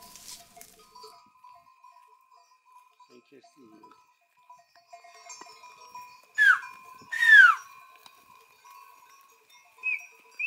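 A flock of sheep out grazing at night gives a few loud bleats, near and separate, over a quiet dark background with faint distant calls and a steady hum.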